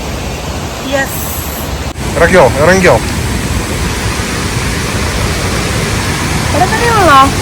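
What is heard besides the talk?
waterfall at Mankulam, Munnar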